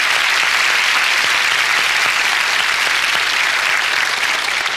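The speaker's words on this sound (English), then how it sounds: "Why don't you give Lenore a round of applause" Loud, sustained audience applause at a motivational ministry gathering, a full round of steady, even clapping from a large crowd, without voices over it.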